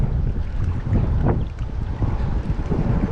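Steady wind blows across a lake where bass are being fished near reeds, a continuous rough rumble and hiss buffeting the microphone with gusty swells and no voices.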